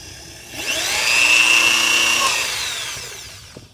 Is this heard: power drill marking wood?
yes